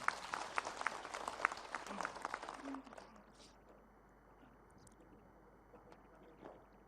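An audience at an Islamic lecture gives Ustazah Maryam a round of applause: clapping fills the first few seconds, then trails off into quiet room noise with faint shuffling.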